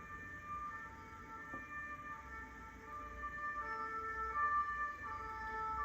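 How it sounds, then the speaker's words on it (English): Emergency vehicle sirens wail outside near a hospital, steady and moderately faint beneath a faint background hum, with no voices. "Sorry for the sirens."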